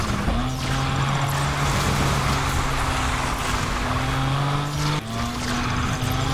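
Tires squeal and chirp repeatedly as engines roar and rev loudly, with rising and falling pitch, cars fighting for grip in the racing game NFS Unbound.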